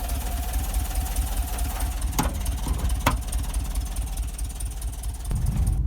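A VW Westfalia bus engine idles steadily with a low, even rumble, a couple of sharp clicks cutting through, and no talking.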